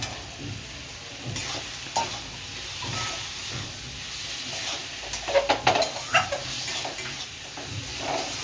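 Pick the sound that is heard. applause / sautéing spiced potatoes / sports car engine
sautéing spiced potatoes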